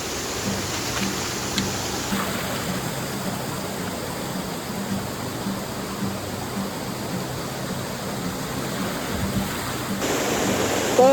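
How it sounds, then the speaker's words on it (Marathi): A waterfall in Tamhini Ghat roars in a constant, even rush of falling water, steady and broad with no voices. "धबधबे तुम्ही बघताय मागच्या बाजूला"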